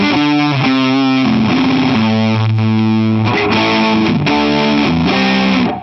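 Godin XTSA guitar on its single-coil pickup through an amp, giving a fuzz-like, heavily distorted tone with long sustain; a sequence of chords and notes played continuously and loudly.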